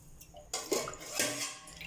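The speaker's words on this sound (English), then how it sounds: "Then I am adding water." Water is poured into a brass vessel holding red rice, giving a short close splashing gush with light drips under a faint low hum, lasting about a second and a half.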